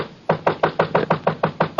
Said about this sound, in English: I heard somebody pounding at the door